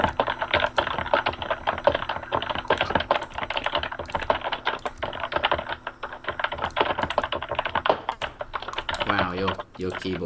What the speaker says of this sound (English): Wow, your keyboard makes one hell of a noise.